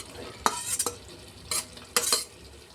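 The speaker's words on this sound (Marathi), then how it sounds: "आता त्याला आपण मिक्स करू चांगलं" Boiled potatoes and spiced curry stirred in a pan, a few distinct spoon scrapes and clinks in short bursts over a faint simmering sizzle, close, without speech.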